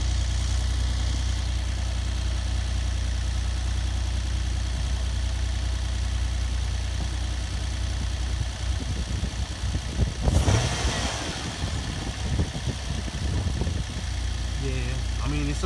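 A 2004 Nissan Maxima engine idles steadily on a cold start after an exhaust rattle repair, with a low, even drone throughout and a brief louder burst of activity partway through.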